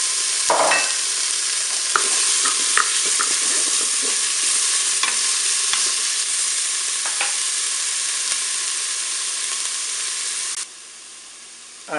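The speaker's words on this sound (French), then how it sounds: "je vais ajouter mes rondelles de knacky. Allez, je mets mes rondelles, c'est parti." Knacky sausage slices browning in a Cookeo multicooker, a loud continuous sizzle and hiss with scattered pops and clicks, dropping sharply near the end, no speech.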